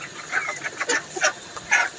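Chickens at a chicken shop give a run of close, bright clucks and squawks in irregular bursts, with no speech over them.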